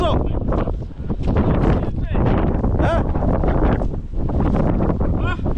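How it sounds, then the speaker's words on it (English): Strong wind blasting across a microphone outdoors in Wales, a loud, constant low roar and buffeting that goes on throughout while people talk and shout over it. "That wind's brutal."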